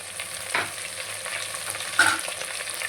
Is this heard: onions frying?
yes